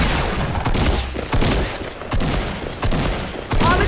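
Rapid gunfire in an online shooter game, loud, close bursts of automatic shots repeating in several clusters with short gaps between them.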